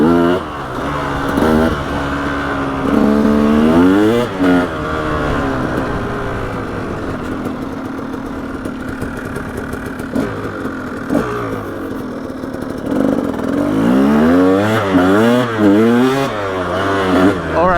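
A KTM 300 XC two-stroke dirt bike engine revs hard and repeatedly, climbing and falling in pitch in bursts. It is loud and close, with a steady engine drone between the revs.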